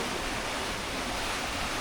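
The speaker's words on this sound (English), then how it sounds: "These waves are monsters." Large ocean waves during a rough Atlantic crossing: a steady, full roar of wind-driven surf and rushing water close by, continuous and loud throughout with no pauses or voices.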